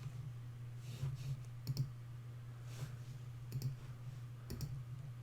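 A few faint, sharp mouse clicks at a computer over a steady low hum in a quiet room.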